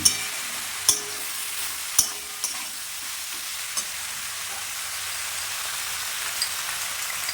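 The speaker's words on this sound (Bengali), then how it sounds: "2 মিনিট পর আবার নেড়ে দিলাম।" Prawn and spinach curry being stirred in a frying pan: a steady, soft sizzling hiss throughout, with a few sharp spoon clicks against the pan near the start and a couple of fainter taps later.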